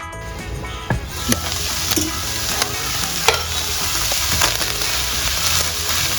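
Vegetables for ginisang gulay simmer in a pan, rendering their own oil, with a steady close sizzle and scattered scrapes and knocks from stirring.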